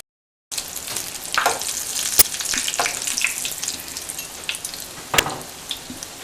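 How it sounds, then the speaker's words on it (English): Koftas, large nargisi malai koftas, fry in hot oil with a steady crackling sizzle, close and fairly loud, punctuated by a few sharp pops and spatters. "I'm going to take some oil and I'm going to fry these"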